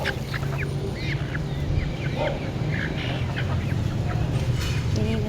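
Chickens clucking and squawking repeatedly amid a busy, noisy background hum, several birds close by with overlapping calls throughout.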